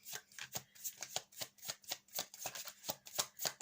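Tarot cards are shuffled in steady repeated riffling bursts, about a dozen crisp slaps and flutters at close range with no talking.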